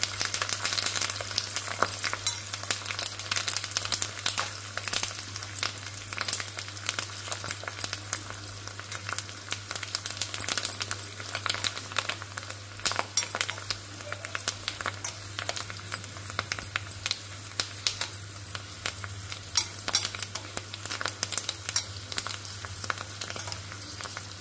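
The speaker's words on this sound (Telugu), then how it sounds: "పోపు వేగుతుంది, మంచిగా వేగాలన్నమాట పోపు." Tempering for pulihora, spices with asafoetida and curry leaves, frying in hot oil, a continuous close crackle of dense popping and spitting with a low steady hum running underneath.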